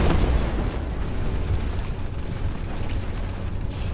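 Missile hits in the war video game Zero Hour, one sharp heavy blast at the start fading into a continuous low rumbling roar of battle.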